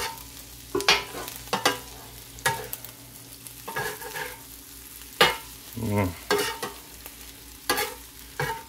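Steak and cheese chopped and stirred with a spatula on a hot griddle, sharp metallic clanks and scrapes striking at irregular intervals over a low, continuous sizzle, close and fairly loud with no talking.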